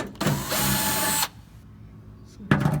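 A power drill spins out bolts beneath a Lotus Elise during a transmission fluid change, one loud whirring burst of about a second, then a pause and the start of another.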